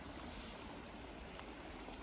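A forest stream flowing in a steady broadband rush, faint and continuous with no talk.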